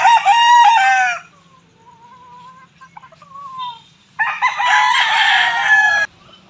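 A rooster crows loudly near the start, followed by quieter clucking, then another long, loud crow.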